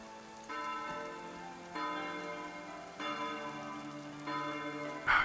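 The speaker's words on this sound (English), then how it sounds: "See, these are the bells." Church bells ring in the medieval city builder Foundation, struck in a slow sequence roughly every second or so with long ringing overtones, moderately faint over a soft steady rain-like hiss.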